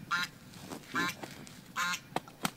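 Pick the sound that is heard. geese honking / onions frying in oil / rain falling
geese honking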